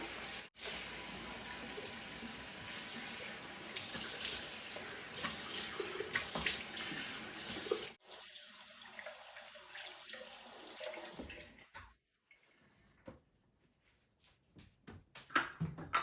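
Water runs steadily from a tap while a face scrub is rinsed off, a continuous close splashing that breaks off partway and then turns into scattered drips and small handling sounds.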